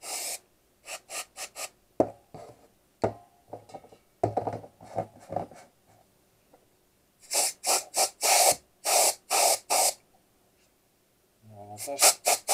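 Short bursts of compressed air from a spray can cleaning a Glock 17 airsoft pistol, several quick puffs followed by a run of longer, louder hisses, close up and separated by quiet gaps.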